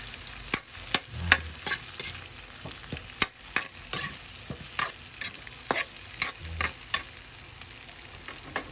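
Corn sautéing in a pan for a sweet and sour shrimp dish with cheese gives a soft continuous sizzle, broken by repeated sharp scraping stirs at an irregular rhythm.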